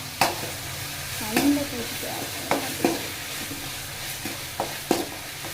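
Tomatoes sautéing in a pan for a capsicum egg gravy, a steady sizzle punctuated by repeated spatula scrapes and taps at irregular intervals, close and clear.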